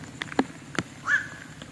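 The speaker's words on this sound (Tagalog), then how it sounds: "Daming uwak dito." A crow gives a short caw amid faint outdoor background near Taal Volcano, with a couple of brief clicks before it.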